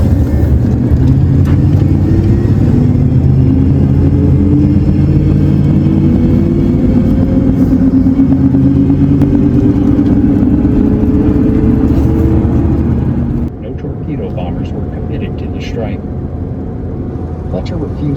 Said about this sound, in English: I'm going to try to capture the noise that I think it's the cold air intake making when I get up to